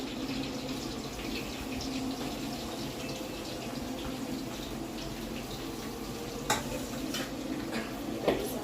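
Pieces of bitter gourd sizzle and crackle steadily in hot oil, close up, with occasional stirring scrapes and a couple of sharp clinks.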